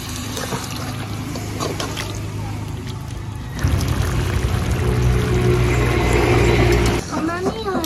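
Water pours into a pan of Kashmiri mushroom curry, a loud steady wash that swells partway through and runs for several seconds, with a kitchen voice speaking over it.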